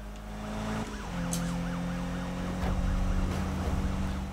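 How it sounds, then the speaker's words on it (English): A police car siren wails in the Need for Speed 2015 racing game on PS4, rising and falling in a steady cycle over a droning car engine that grows louder toward the end. "get rid of this police car."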